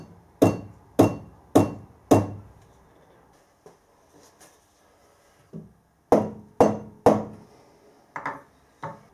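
A milling machine head with its clamping bolts loosened is tapped gently, giving sharp metallic knocks in two bursts of four, spaced evenly, close and clear, with fainter taps between and after.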